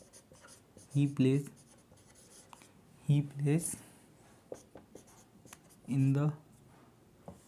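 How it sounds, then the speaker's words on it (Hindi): Marker or chalk writing an example on a board during a Hindi-language English grammar lesson, a few short scratchy bursts of strokes spaced a couple of seconds apart, close and clear, with someone speaking between them. "मैं लिखूं एग्जाम्पल लिखता हूँ"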